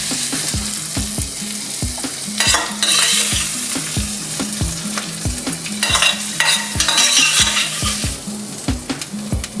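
Heated king crab meat being stirred into a mayo mixture in a pan or bowl, giving a steady rhythmic scraping and stirring pattern over a continuous sizzling hiss, close and fairly loud.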